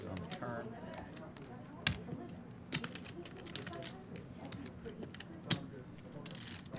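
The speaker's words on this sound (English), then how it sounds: "He's pretty much just shuffling chips and darting his eyes around." Stacks of poker chips are riffled and clicked at a live cash game table, with rapid light clacking that runs steadily under a voice.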